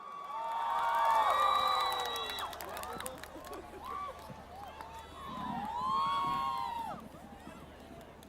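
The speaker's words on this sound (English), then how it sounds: "Can we have a louder round of applause for our artist," A festival crowd at the Orange Festival in Tamenglong cheers and whoops for an artist, with rising shrill whistles and yells over a loud, swelling roar, and voices shouting among them.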